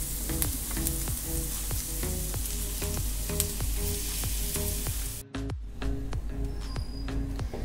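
Potatoes frying with red chilli powder and coriander powder in a pan for aloo bread pakora filling, a dense continuous sizzle broken by rhythmic scraping stir strokes and a brief pause near the end.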